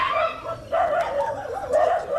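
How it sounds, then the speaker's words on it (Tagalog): Dogs yelp and whine in short, high, repeated bursts, fairly close, with a brief gap before the noise picks up again. "May mga aso mga dyan."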